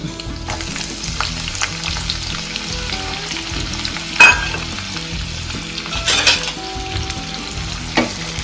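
Dried red chillies and onions sizzle steadily in hot oil for a tempering, with a loud continuous crackle and a few sharper clinks of stirring, no voices.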